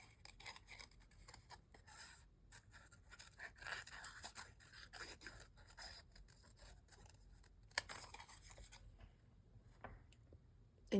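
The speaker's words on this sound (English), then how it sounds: "I kind of turned the paper instead of trying to turn the scissors all over." Scissors cut small pine cone shapes out of paper, giving quiet, close snips and rustling scrapes in an uneven rhythm, with a sharper click near the end.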